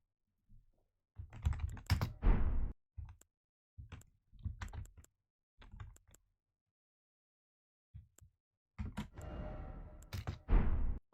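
Computer keyboard typing plays game-style sounds from Elden Ring, coming in irregular bursts of clicky keystrokes with brief pauses, then a longer, denser flurry at the end, close and fairly loud, with no voices.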